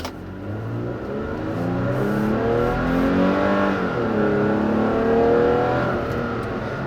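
A 2016 Toyota Tacoma pickup accelerates from a standstill, its engine note climbing steadily in pitch as revs build, then dipping briefly and rising again; loud, close and continuous with no voices.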